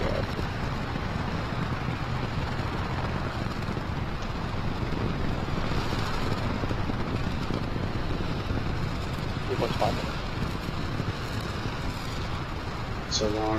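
NASA SLS core stage rocket engines during the long Green Run test burn: a continuous, roaring broadband rumble that stays steady throughout, like heavy wind against the microphone, without a break.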